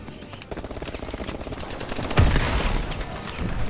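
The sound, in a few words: gunfire from a gun in the video game Call of Duty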